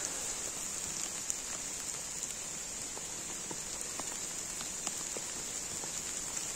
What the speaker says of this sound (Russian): А по концовке пошел град.